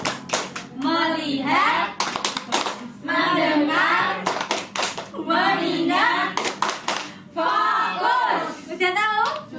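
A classroom of children performs the 'tepuk fokus' clap chant during a microteaching lesson: tight bursts of rhythmic hand clapping alternate with chanted words, repeating in a regular pattern close by.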